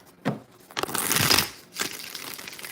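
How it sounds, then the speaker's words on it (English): Tarot cards being shuffled by hand: a few close, papery riffling bursts with brief pauses between them, and no talking. "2 more shuffles."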